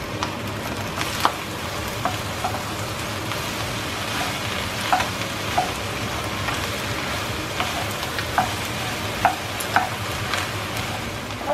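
Pork fat sizzles and spatters steadily in a hot pan with garlic and onion, a continuous frying hiss with scattered sharp pops throughout.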